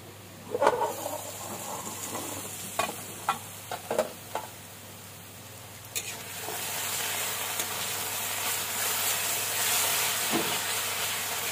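Fish curry cooking in a covered pan, a few clanks of the stirring spoon and lid at first, then a steady sizzle and hiss of steam that grows louder, with no talking.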